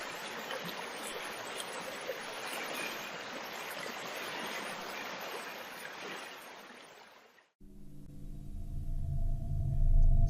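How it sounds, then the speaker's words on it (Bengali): A cartoon river flows in a continuous rushing, hissing wash of water for several seconds before it cuts off abruptly into a different, quieter tonal hum. "নদীর কাছে তো চলেই এলাম।"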